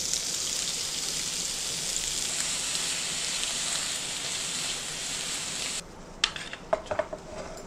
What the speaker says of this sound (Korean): 따로따로 이렇게 볶아주는 게 좋아요